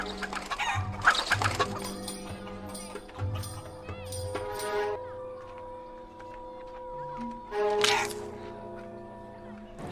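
A chicken clucks and squawks in a scene from the TV series Lost where a boy tries to kill it, the agitated calls rising and falling over music, with a voice talking in places.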